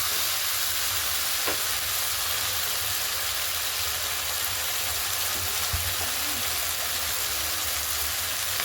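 Potatoes and spices fry in a pan as the base for a tilapia and capsicum fish curry, giving a steady, dense sizzle that holds at an even level throughout, with a few faint clicks on top and no talk.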